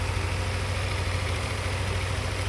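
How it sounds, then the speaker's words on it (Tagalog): A Yamaha Nmax V2 motorcycle engine idling steadily after cooling system and water pump work, a smooth low hum with constant vibration, close and alone throughout. "Napakatahimik na ng makina. Tunog motor na ulit."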